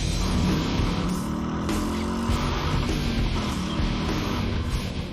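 A loud, continuous V8 engine roar from a Ford Mustang Mach 1 in track mode, droning steadily and close throughout with a deep, rumbling tone.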